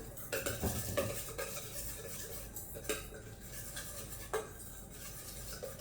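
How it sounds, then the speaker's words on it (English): Stirring a salmon cake mixture with fresh lemon juice in a bowl: a utensil scrapes and clinks against the dish in steady, close strokes, with a few sharper taps along the way. "I'm going to give that a nice stir."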